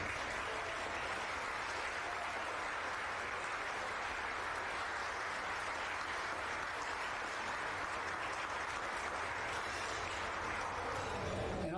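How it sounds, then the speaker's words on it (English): An audience at a college athletic Hall of Fame ceremony applauds committee members, steady and sustained clapping from a crowd filling the room for about twelve seconds. "give them a round of applause"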